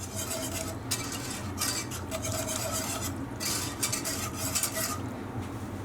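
A whisk scrapes and rasps around a pot, working corn flour into a sauce for Canadian poutine, with quick rhythmic metallic strokes in bursts close by; no one speaks.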